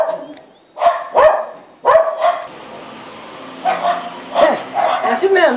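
Several dogs bark close by in short, loud bursts that come in uneven clusters, with some higher yips between them.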